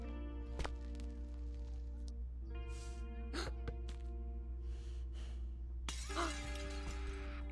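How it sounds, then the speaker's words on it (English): Window being smashed in the stealth game Hello Neighbor, a bright burst of shattering glass near the end, following scattered tonal game sounds and brief breathy vocal noises over a steady low hum. "Someone smashed the window in."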